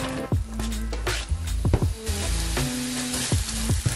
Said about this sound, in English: Now to this pan I've added olive oil, around 2 to 3 tablespoons. Now I'm going to go in with the onion.